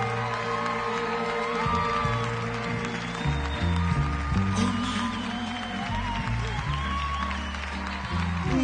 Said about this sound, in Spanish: en el estadio de pie para aplaudir a nuestra amiga paraguaya